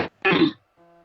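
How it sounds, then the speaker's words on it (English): A man clears his throat in one short harsh burst, then gives a brief fainter follow-up rasp, close to the microphone and alone. "was clearing his throat"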